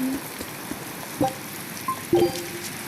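Steady rain patters through a Tales of Berseria game scene, a soft continuous hiss with a few brief tonal chimes and thumps from the game rising above it.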